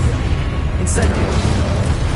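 An Incendio fire spell is cast in Hogwarts Legacy, a single bright whooshing burst near the one-second mark over a loud, rumbling game soundscape, with a voice calling out.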